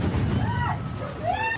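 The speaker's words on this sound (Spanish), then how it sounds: "se registró la explosión de un patrullero de la policía" A police patrol car explodes on a road in Ecuador's Los Ríos province, captured in a resident's recording as a rumbling blast with a muffled roar and noisy background, while voices are heard faintly.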